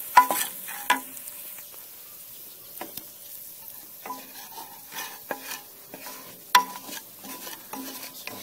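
Garlic fries and sizzles in a pan for shrimp scampi, with soft steady frying under sporadic stirring scrapes and clinks of a utensil against the pan.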